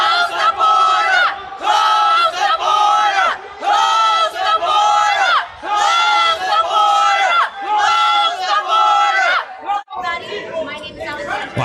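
A sizable crowd at a rally during the NYC border crisis yells and chants in loud, rhythmic bursts, close and steady throughout, drowning out a speaker before the noise breaks into looser shouting at the end.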